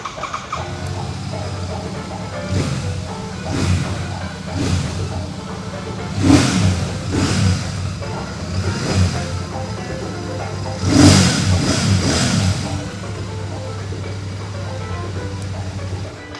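A Royal Enfield Shotgun 650 motorcycle fires up and idles with a throbbing engine, then gets two or three sharp throttle blips that swell loudly and fall back, recorded close by.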